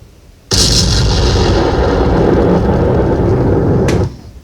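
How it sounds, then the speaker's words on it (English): A loud, close blast during a Bangladesh Army peacekeeping drill near an armoured LAV: an abrupt heavy explosion that roars on for several seconds with rumble and debris noise, then cuts off, with no voices. "a serious explosion has just occurred"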